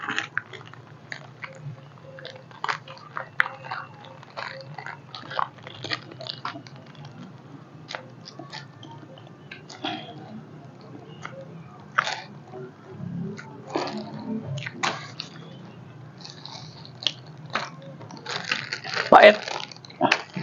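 Crunchy food being bitten and chewed at close range during a spicy mukbang, scattered sharp crunches and wet chewing sounds over a low steady background hum.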